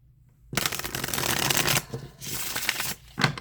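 A deck of cards is shuffled close up during a spirit-guide card reading, two long riffling bursts of dense papery rustle followed by a short final shuffle, with no talking.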